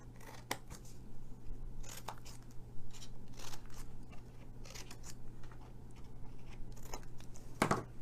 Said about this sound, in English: we're gonna just cut these for our flaps